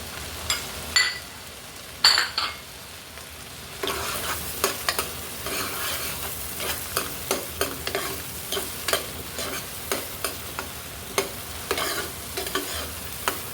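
Whole spices (bay leaves, black cardamom and green cardamom) go into hot oil for chana masala, with a few clinks and stirring before a steady, close sizzle takes over with light scraping throughout.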